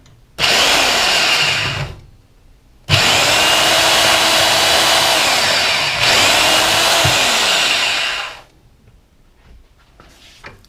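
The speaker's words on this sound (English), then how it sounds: "I'm going to cut off the end with my bandsaw." A bandsaw cuts off the end of a metal alligator clip, meant as a battery extender for a Honda Goldwing, in two loud sustained runs of whining blade, each several seconds long, with brief quiet gaps between them.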